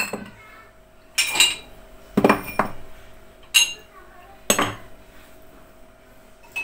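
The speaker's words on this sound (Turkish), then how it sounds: "Şimdi bulaşık işini halledeyim." Dishes and cutlery clink and clatter while being washed by hand at home, several sharp separate bursts of ceramic and metal knocks spaced a second or so apart over a low steady hum.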